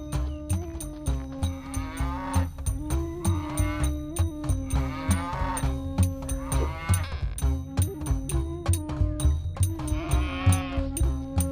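Cattle moo repeatedly over a steady musical drone and rhythmic backing, the lowing calls rising and falling at moderate loudness without any talk.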